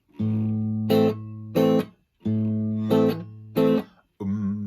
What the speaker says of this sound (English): Sometimes the chords that go with a waltz sound like this.